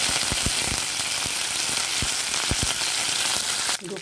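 Mustard seeds, chana dal, cumin, urad dal and dried red chillies frying in hot oil for a tempering, giving a dense close sizzle dotted with rapid popping crackles, ending in a brief scrape.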